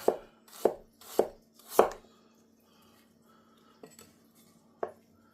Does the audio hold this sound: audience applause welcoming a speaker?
no